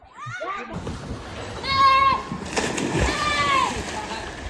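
A child jumps into a swimming pool at a kids' water park, making a splash amid busy sloshing water, excited children's voices and shouting nearby.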